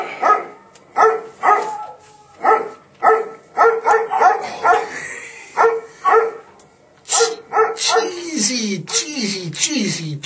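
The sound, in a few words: dog barking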